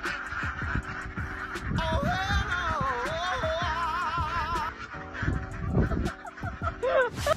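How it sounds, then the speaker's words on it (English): Ducks outdoors in the snow honk and quack repeatedly, a busy chorus of nasal calls close by, with scuffling and soft thuds underneath and no one speaking. "The ducks walk outside in the snow, but then change their mind."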